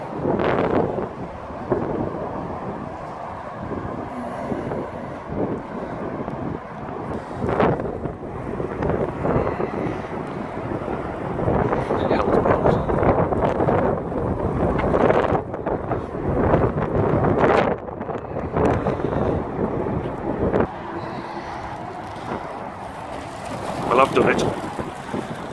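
Strong wind at the Angel of the North sculpture buffets the microphone in loud, rumbling gusts that swell and fade, with sharp blasts throughout.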